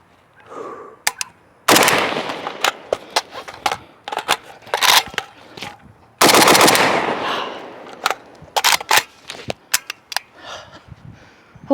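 FB Radom Mini Beryl 5.56 rifle fired outdoors: loud close shots, including two sustained full-auto bursts plus scattered single shots and short doubles, with sharp cracks and gaps of near silence between.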